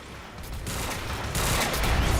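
Burst fire pistol shots in a Remedy video game, a few quick rapid bursts close and loud with a heavy boom building toward the end, no talking.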